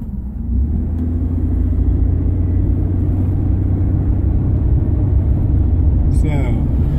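A car cruising along an asphalt back road in Mexico, a steady low engine and road rumble heard from inside, continuous and fairly loud, with a brief high rattle near the end.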